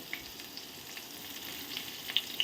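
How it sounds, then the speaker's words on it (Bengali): Turmeric, salt and dried chili frying in a pan make a faint, even sizzle with a couple of small pops near the end, heard without speech. "এটাও ভাজা হবে, তার সাথে সাথে শুকনো লঙ্কাটাও ভাজা হয়ে যাবে।"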